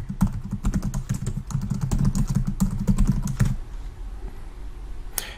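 Rapid clattering keystrokes on a computer keyboard enter a password, a close burst of clicks lasting a few seconds, then quiet room tone and one final key tap.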